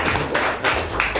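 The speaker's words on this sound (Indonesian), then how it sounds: "Kita berikan aplaus ke Pak Syagen" Audience applause for a speaker at an Indonesian banking talk, a short burst of dense clapping from a crowd filling the room at steady loudness.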